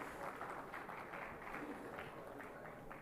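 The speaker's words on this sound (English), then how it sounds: "Yes, please keep the applause coming, ladies and gentlemen." Sustained applause from a conference audience at a maritime industry panel, a dense steady wash of many hands clapping at even loudness throughout, with some murmur mixed in and no single clapper standing out.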